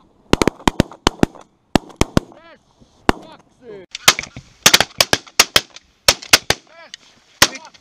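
Shotguns fire during a goose hunt in Sweden: a rapid series of sharp, loud blasts in clusters, some in quick pairs, with honking geese and brief shouts between the shots.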